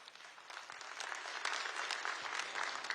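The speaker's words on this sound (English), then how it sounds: "Please give a big round of applause for everybody tonight." Audience applause at the ASEAN Foreign Ministers' gala dinner in Kuala Lumpur, a dense, steady wash of many hands clapping that swells slightly and holds for the full stretch, fairly distant and even.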